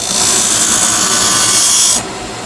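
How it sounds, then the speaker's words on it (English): A small gouge cuts into wood spinning on a lathe while a chess king is turned, a loud, steady, hissing scrape close up that stops abruptly, leaving the lathe's lower running hum. "I'm turning and cutting in, going to the other side, turning in."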